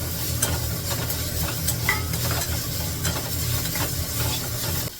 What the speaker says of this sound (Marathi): आता कांदा परतलाय, चांगलाच लाल झालाय, टमाटा घालते.